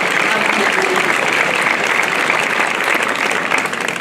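An audience at the St Etienne de Tinée festival in 2017 applauds in a loud, dense, unbroken clatter of clapping, with a few voices mixed in.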